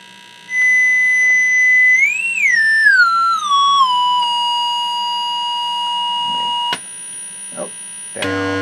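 A Scott tube amplifier under repair gives off a loud, steady high-pitched test tone of about 9 kHz. Other tones sweep and then settle, with a faint hum underneath and a few soft clicks and knocks near the end.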